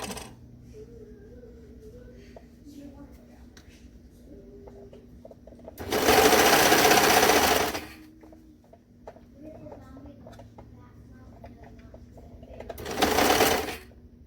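Sewing machine stitching the pocket band of a pair of joggers, in two loud bursts of steady whirring, the first about two seconds long and the second shorter, with quiet handling sounds between them.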